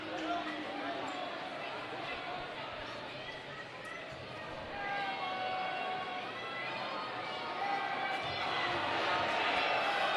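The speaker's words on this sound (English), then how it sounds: "Crowd gets loud." Gym crowd at a high school boys basketball game between Roseburg and Grants Pass swells into a steady, rising roar of voices, dense and continuous, with no separate talk standing out.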